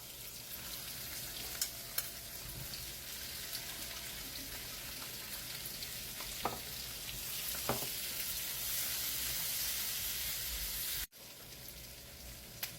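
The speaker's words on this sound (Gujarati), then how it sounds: "હવે મિત્રો આપણે નાખીશું ડુંગળી." Onions fry in hot oil in a pan, following cashews, with a constant fine crackling sizzle and a few clicks from a spoon. The sound is close and steady and cuts off abruptly near the end.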